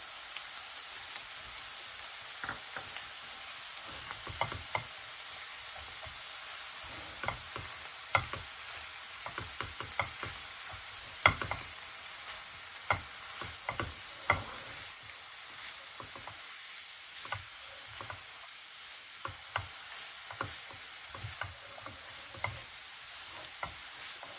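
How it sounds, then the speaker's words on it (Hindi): Shredded cabbage and leftover mashed potato fry in a pan with a soft, steady sizzle and occasional light stirring clicks, fairly quiet throughout with no talking. "कैबेज भी फ्राई हो चुकी है।"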